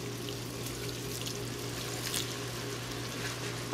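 Half a cup of water pours into a simmering Mexican deviled shrimp (camarones a la diabla) sauce, a continuous splashing, trickling stream over a low steady hum, close up and with no voices.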